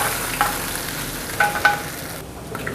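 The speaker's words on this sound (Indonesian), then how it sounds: "Kita siramkan ya, semuanya sama minyak-minyaknya." Hot garlic oil poured over potato starch dough, giving a soft continuous crackling sizzle with a few sharper pops, close and steady throughout with no voices.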